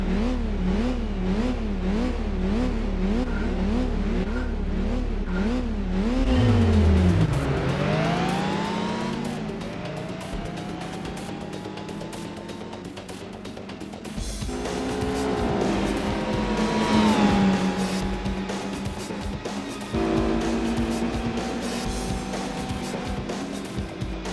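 A race car engine in Gran Turismo 4 replay footage snarls continuously, revving up and down through repeated gear changes with rising pitch sweeps, and tires squeal briefly partway through.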